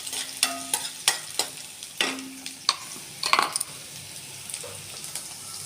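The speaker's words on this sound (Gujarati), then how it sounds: "આપણે કટ કરેલા મરચાં ઉમેરી જઈશું મરચાંને તેલમાં સારી રીતના સાતરી લઈશું" Chopped green chillies stirred in hot oil for a chilli and gram flour chutney: a light sizzle under a string of sharp, irregular spoon-on-pan clicks and scrapes, close and moderately loud, with no talking.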